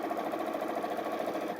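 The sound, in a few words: sewing machine stitching a fabric bag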